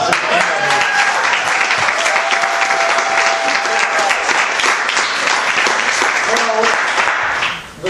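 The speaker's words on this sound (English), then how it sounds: "we should give him a round of applause" An audience applauds Nick Dembski at a Bonk! Q&A event, with steady, dense clapping that lasts about eight seconds before tapering off at the end. Some crowd voices mix in.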